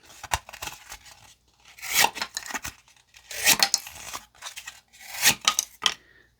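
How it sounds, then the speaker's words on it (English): A CJRB Maileah folding knife with glow-in-the-dark G10 scales slices through cardboard in about four rough, tearing strokes, each a close, scraping rasp with short pauses between. "Let's close it up by cutting through some cardboard."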